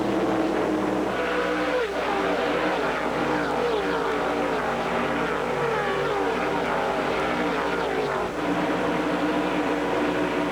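NASCAR Busch North Series stock cars racing at Loudon, New Hampshire, on the first of 100 laps: a steady, loud engine roar from the pack fills the whole stretch, with pitch swells as cars pass and no talking.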